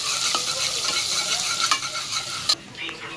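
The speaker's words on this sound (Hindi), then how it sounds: "अब इसमें कटी हुई प्याज, ओए होए, अच्छी तरीके से इनको भूनते हैं" Chopped onions fry in hot oil with whole spices in a pan, a loud continuous sizzle with a few stirring clicks, close and steady without talk.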